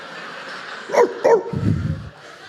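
A voice imitates a dog barking, giving two loud, sharp woofs close together, then a lower growling whine, in front of a quiet room.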